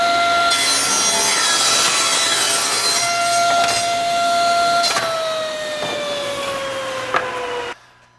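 Saw ripping a wood board to width, slicing off the bad edge: a loud, close, sustained blade whine whose pitch slowly sinks as the cut loads up, ending abruptly as the blade clears the board.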